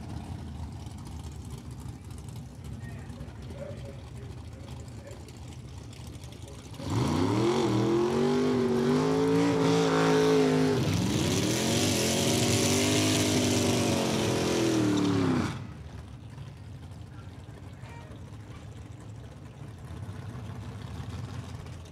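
Super Street drag racing cars launch and roar down the strip in a final round, a loud engine burst rising and shifting over about nine seconds amid steady track ambience before cutting back.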